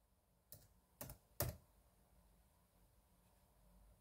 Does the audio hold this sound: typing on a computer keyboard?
yes